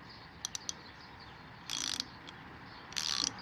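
Tekton socket ratchet, a quick few clicks then two short bursts of rapid close ratcheting as the lever is worked back and forth, fairly quiet with no talk.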